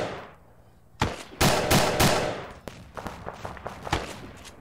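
Full-auto rifle fire in Arma 3 during a Vietnam-era operation, heard as a close, loud opening burst followed by a rapid string of cracking shots that trail off into scattered bursts, with no voices over it.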